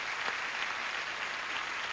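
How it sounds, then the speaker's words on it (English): Studio audience applauds a returning game show contestant, a dense, steady burst of clapping filling the room for about two seconds with no voices over it. "Let's have a brisk round of applause for old Bill Stevens."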